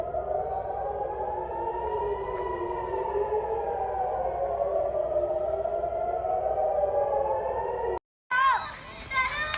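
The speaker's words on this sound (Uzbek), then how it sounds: "Isroil bo'ylab yana sirenalar ovozi yangradi" Air raid sirens wail across Israel in a long rising and falling tone, loud and steady for about eight seconds before a sudden cut, then voices briefly follow.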